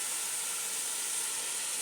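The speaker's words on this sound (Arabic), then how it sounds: "اضيف المعجون والمي" Tomato paste and water hit a hot pot and sizzle, a bright, steady hiss that stays loud for the whole moment with no voices over it.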